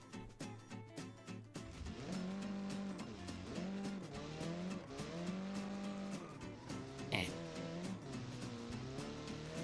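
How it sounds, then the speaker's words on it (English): A flat-four boxer engine car in the BeamNG racing game is heard revving repeatedly, its engine note rising and falling in surges as it powers along, loud and continuous with occasional tyre noise and no talk. "I hear somebody coming up in a flat 4 engine or a boxer engine. Sounds like a Subaru."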